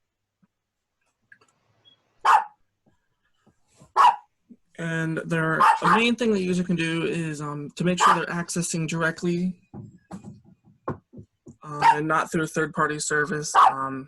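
Dogs barking indoors: two sharp, separate barks a couple of seconds apart, then someone talks steadily while faint further barks sit under his voice.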